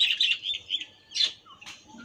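Pet budgerigars in a home breeding colony calling for food, a burst of bright high chirps and squawky tweets in several quick phrases, close and fairly loud with short gaps between calls.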